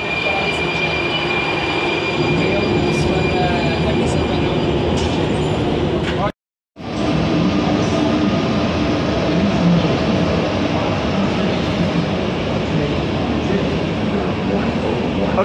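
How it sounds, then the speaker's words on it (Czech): Prague metro line A train arriving, a loud continuous rumble of wheels on track with some squealing, plus a brief sharp dropout partway through before the rolling noise resumes at full strength. "přijíždí metro. Metro linky A."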